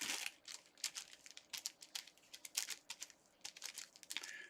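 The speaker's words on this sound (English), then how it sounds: "This keyboard drives me nuts." Rapid, uneven clicking of computer keys, close and fairly quiet, with bursts of keystrokes tapped continuously and no one speaking.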